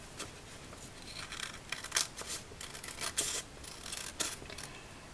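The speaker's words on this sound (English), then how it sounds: "Now I'm going to cut and we'll see how it works" Scissors cut paper for a Midori Traveler's Notebook journal in a series of close, crisp snips and rustles, coming in irregular bursts with no talking.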